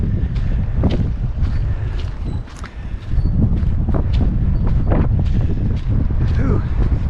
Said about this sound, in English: pretty breezy out here